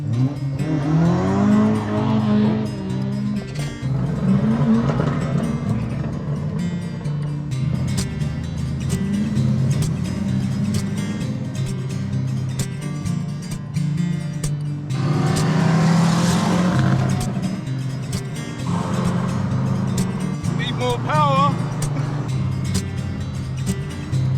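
A Ford Mk2 Escort fitted with a boost controller pulls away and accelerates, its engine droning loudly with rising and falling harmonics through several gear changes, close and continuous throughout.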